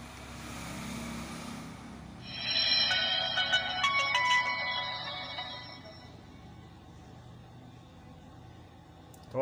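A keypad feature phone, freshly unlocked with a free tool, powers on with a bright electronic startup jingle of layered tones that rises suddenly, holds for a few seconds and fades, with a soft background hum and no talk.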